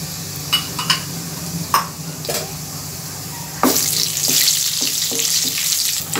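Cumin and carom seeds fry in about two tablespoons of oil in a kadhai, a close, steady sizzle marked by sharp crackles and pops. The sizzle grows noticeably louder and denser halfway through.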